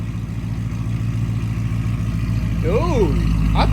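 Shelby GT350 fitted with a Corsa Extreme exhaust idles loudly, a deep rhythmic burbling pulse close by and continuous, with a brief voice rising over it near the end.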